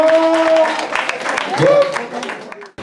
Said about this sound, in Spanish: ¡Oh, una fuerte aplauso!